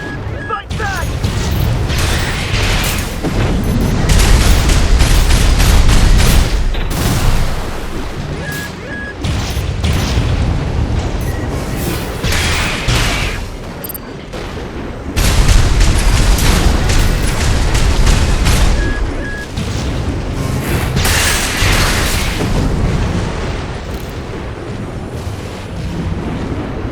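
Artillery and explosions in Armored Core VI: Fires of Rubicon, heavy repeated booms and blasts rolling in clustered waves with mechanical clatter, loud and close, while voices talk over the combat.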